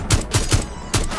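Shotgun blasts in the Rainbow Six Siege video game, several rapid loud booming shots in quick succession within about a second.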